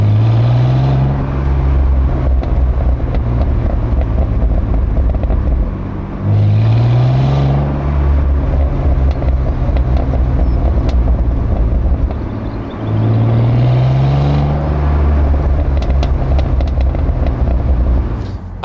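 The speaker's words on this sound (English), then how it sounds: "at low speeds, when you lift off, you get this most wonderful and delicious burble, and the occasional pop too." BMW Z3 six-cylinder roadster at low speed, with a loud, steady engine drone heard from inside the car and three rising revs as the throttle is worked. The burble on lift-off is audible, though the pops are not distinct.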